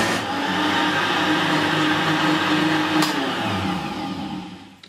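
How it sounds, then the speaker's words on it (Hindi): A blender whirs steadily through one pulse of apricot shake mixed with soda, loud and continuous before winding down at the end. "यानी कि ब्लेंड इसको कर लें सिर्फ एक चक्कर पे"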